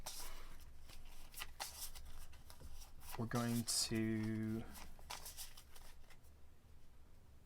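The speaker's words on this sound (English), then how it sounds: "We're going to shuffle my hand." Playing cards for a print-and-play solitaire game are shuffled in quick soft riffles and flicks, a brief burst of papery ripples alongside quiet speech.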